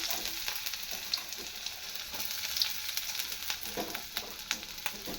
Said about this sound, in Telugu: చూడండి ఆయిల్ అయితే ఎక్కింది కదా శనిబాలు వేసినాను కొన్ని ఉల్లిగడ్డలు